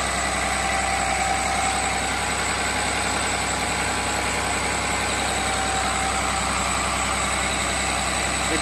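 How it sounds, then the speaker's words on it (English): A Cummins 6.7 turbo diesel engine idles at low RPM on a hydrogen-based liquid fuel, a loud, steady, close rumble with a constant even drone and no change in pitch. "It's running at a lower RPM."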